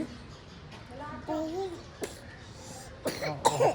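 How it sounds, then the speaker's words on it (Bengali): A child coughs a few short times between quiet stretches, close to the microphone, with a little faint speech nearby. "কাশি হয়েছে, কাশি হয়েছে"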